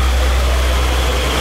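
Steady low rumble of a motorboat engine driving a wooden boat loaded with dried coconuts, running at a constant idle-like drone, close and loud with water noise, no talk.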